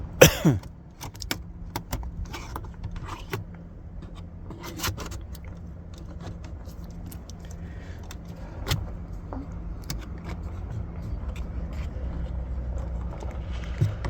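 A car's interior panel trim is pried loose with a trim tool, giving quiet, scattered plastic clicks, scrapes and small rattles over several seconds, with a faint low hum underneath and no talking.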